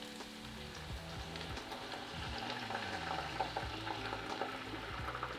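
Red wine with minced garlic bubbles and simmers in a pot for beef short ribs, a soft steady crackle of small bursting bubbles, faint and even throughout.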